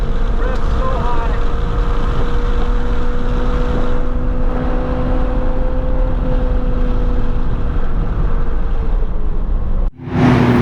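Honda Civic Type-R EK9 engine held at high revs on a racetrack, a steady loud drone with a sustained tonal whine and little change in pitch, cutting off abruptly near the end.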